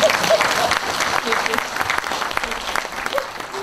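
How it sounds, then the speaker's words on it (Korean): An audience claps at a book concert in Jeonju, celebrating a woman who became a judge in 1985, with dense applause sustained throughout, loud and close, and voices faintly audible among the clapping. "늦게나마 판사가 되신 걸 축하하는 박수라도 한번"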